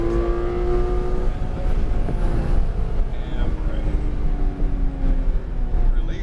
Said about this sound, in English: Start to roll on that gas. Nice and smooth. And accelerate.